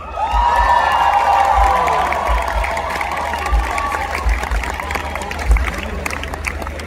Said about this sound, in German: Den größten Applaus bitte für Antje Schumacher